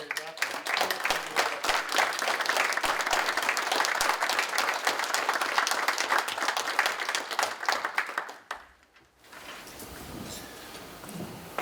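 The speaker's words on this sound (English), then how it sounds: "if we'd be willing to give a round of applause to Mary and Mary Beth" A county board meeting audience gives a round of applause for two honorees, Mary and Mary Beth; dense, sustained clapping runs for about eight seconds, then dies away into quiet room tone.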